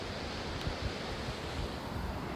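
Ocean surf washing steadily along the New South Wales coast near Wollongong, a continuous broadband roar with soft swells and some wind buffeting the microphone, no voices.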